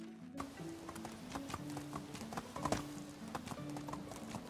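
Horse hooves trotting in the medieval game Medieval Dynasty, a quick steady clip-clop rhythm, fairly close but quiet, running through the whole stretch with no talk.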